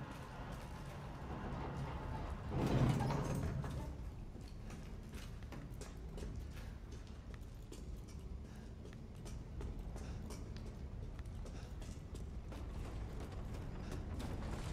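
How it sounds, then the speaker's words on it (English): Creaking, clanking machinery of the reservoir elevator in the video game Resident Evil Village, with a steady mechanical rattle and grind throughout and a louder clunk early on, no talking. "I'm enjoying the elevator ride."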